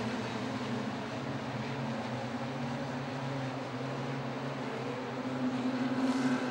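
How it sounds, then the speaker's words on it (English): Speedway race car engines drone steadily at a Sydney Speedway A-Main, a continuous distant roar of several cars running laps, swelling slightly near the end. "Someone's motor's starting to sound a little funny out front."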